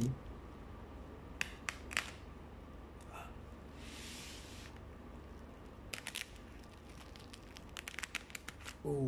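A knife slices open parcel packaging holding books, giving scattered close bursts of crinkling and tearing plastic separated by quiet stretches, with a thicker run of crackles near the end.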